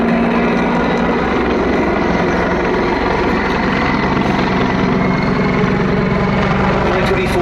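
Czech Air Force Mil Mi-35 Hind attack helicopter performing a flying display at the Duxford Battle of Britain air show, a loud, continuous rotor and turbine roar with a steady low throb, close and sustained throughout.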